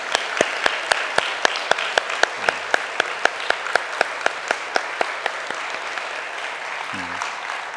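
A church congregation at Sunday worship claps in unison, a steady rhythmic beat of sharp claps over a softer crowd wash, with faint brief voices underneath.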